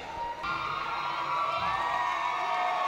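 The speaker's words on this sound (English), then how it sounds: "this crowd has just gone ape over this" Crowd at a women's MMA fight cheering and roaring after the bout: a continuous wall of cheers and whoops with high shouts rising over it, loud and unbroken.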